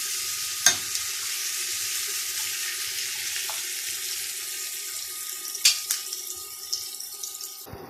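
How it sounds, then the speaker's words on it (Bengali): Onion frying in a pan for a small fish chorchori, a soft steady sizzle with a few brief clinks and stirring knocks of a utensil against the pan, close by with no talk. "পেঁয়াজটা এভাবে ভেজে নেব।"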